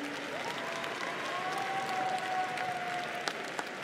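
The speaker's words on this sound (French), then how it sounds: "Vous applaudissez bien fort" Spectators applaud at a livestock award ceremony for a Holstein cow, a steady crowd clapping with a faint sustained tone rising and holding in the background.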